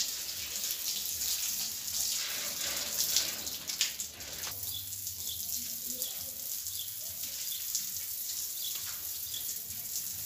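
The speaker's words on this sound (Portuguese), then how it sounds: "Agora é só jogar água para enxaguar." Water poured and splashed across a freshly cleaned stone floor to rinse it, a steady broad wash of splashing with faint birds in the background.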